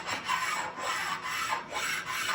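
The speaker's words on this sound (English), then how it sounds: "So I'll stone this a little bit." A honing stone rasps back and forth over the metal column of a Harbor Freight mini mill, about five steady, even strokes close up with no talking.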